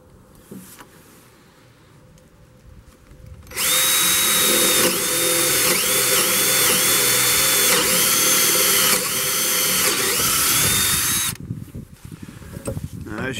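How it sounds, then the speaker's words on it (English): Power drill boring with a 1/2 inch drill bit during a DIY outside chimney build, a loud steady whine of about eight seconds with slight pitch dips under load, preceded and followed by quiet room sound. "So you're simply coming along and drilling."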